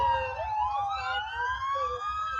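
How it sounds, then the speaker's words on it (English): Several emergency sirens wail together with rising and falling tones over a low rumbling background, sustained and fairly loud, playing back from a video. "Listen to the sirens."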